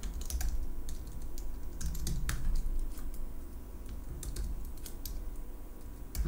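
Someone types JavaScript code on a computer keyboard, a quiet, close, irregular clatter of keystrokes with brief pauses, with no talking.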